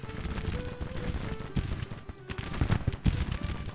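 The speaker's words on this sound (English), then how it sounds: "they've got these Sharp's carbines shooting into them, and then they've got 2 other brigades with rifled muskets shooting into them" Sharps carbines and rifled muskets firing in a Civil War battle in Grand Tactician, a dense, uneven crackle of distant volleys with heavier bursts near the end and no voices.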